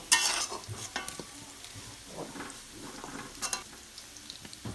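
Pieces of beef tripe fry in oil in a wok, giving a crackling sizzle with loud bursts as they hit the hot oil and scrapes of stirring.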